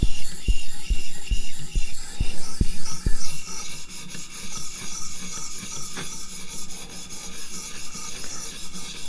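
A Hinderer Firetac knife is drawn across a knife sharpener, close rhythmic rasping strokes with sharp taps early on, then a steadier grinding scrape.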